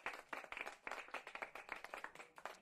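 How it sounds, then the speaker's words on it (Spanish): A church congregation applauds briefly, producing a close, crisp burst of many hands clapping in an uneven, rapid rhythm that swells and thins over a couple of seconds. "Un aplauso."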